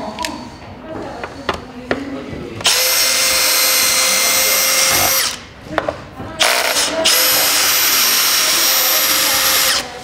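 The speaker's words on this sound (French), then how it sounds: "il faut dévisser ceux-là, et puis il faut dévisser ça pour pouvoir dévisser celle-là" A power drill unscrews screws on a prototype parklet, running in two long, loud, steady whines of several seconds each, with short clicks and handling noises before and between them.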